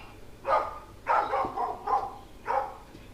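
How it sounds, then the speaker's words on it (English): A dog barks four times at a steady pace, somewhat distant, against a quiet background. "Oh, that dog is keep on barking."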